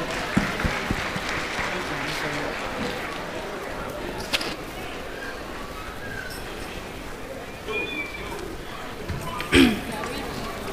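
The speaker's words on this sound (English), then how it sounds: "A round of applause for Serbia." Audience applause at an international school event, steady broadband clapping spread across the whole stretch at moderate level, with a louder burst near the end and some talk mixed in.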